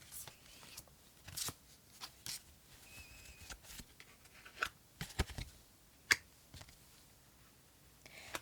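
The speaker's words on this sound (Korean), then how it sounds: "제가 다시 한번 카드 3장을 꺼내 볼게요" Three tarot cards are drawn and laid down in a series of soft, close card slaps, flicks and rustles, quiet and intermittent, with faint low talk in the background.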